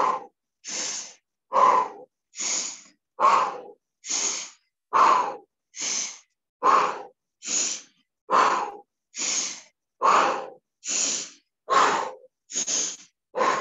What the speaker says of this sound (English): So the pumping breath is deep diaphragmatic breathing.